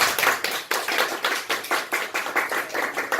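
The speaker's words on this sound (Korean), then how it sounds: "박수 한번 쳐드리겠습니다" A church congregation applauds together, close, with rhythmic clapping pulses throughout and no talk.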